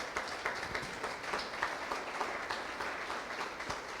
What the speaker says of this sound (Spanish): Pero denle un aplauso al Señor.